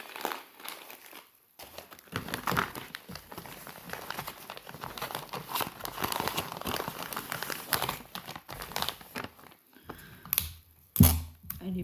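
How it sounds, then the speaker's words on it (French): Small Halloween figurines being wrapped by hand, with bursts of close crinkling and rustling packaging material, brief pauses, and a few sharper crackles and taps near the end. "Là, on va emballer les petites figurines."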